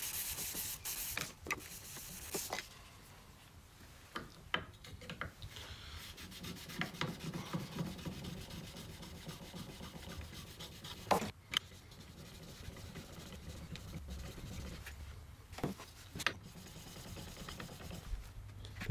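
A metal plate is rubbed over sandpaper while a kerfing tool is being made. The close, raspy scraping runs in uneven strokes with short knocks and pauses, and no one speaks.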